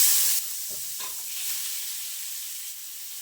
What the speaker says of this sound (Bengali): এখন এই তেলের মধ্যে কুচিয়ে রাখা পেঁয়াজগুলো দিয়ে দিচ্ছি